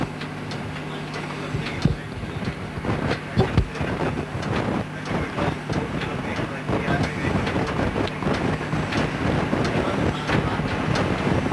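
A train running slowly on the Machynlleth to Pwllheli line passes under the Briog Avalanche Shelter, with continuous rumble, clattering wheel knocks and wind buffeting the microphone, loud and close throughout.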